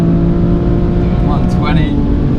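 BMW car, an i8 or M3 Competition Package, accelerating hard on the Goodwood circuit, heard from inside as a steady loud engine drone with rising pitch, while voices speak over it.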